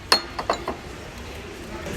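A glass bowl clinks a few times in quick succession in a Carrefour store, bright light taps that fade into a quiet room.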